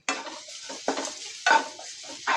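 Curry leaves fry in hot oil in a pan while a spoon stirs them, giving short bursts of sizzle and scraping in uneven pulses.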